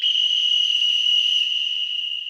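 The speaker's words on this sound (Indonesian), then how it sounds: "Wasit meniup peluit, tangannya mengisyaratkan pelanggaran." A referee's whistle at a basketball game: a steady, piercing high tone held continuously for about two seconds, loud and close, with no pauses or talking.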